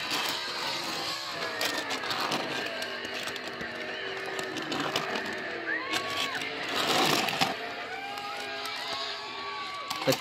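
A crowd cheers and whoops in a stock car racing video game at Pocono Raceway. The roar is steady and moderately loud, with a swelling surge partway through and engine noise mixed underneath.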